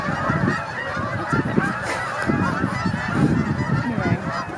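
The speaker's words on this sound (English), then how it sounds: "Bye, geese." A flock of geese honks continuously outdoors, many overlapping calls that are fairly loud and close, over a steady background hiss.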